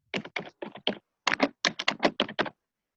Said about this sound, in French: on entend ton clavier